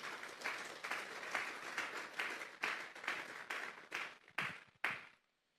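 A church congregation claps together for the Lord, a fairly distant wash of applause that thins into a few separate claps before stopping.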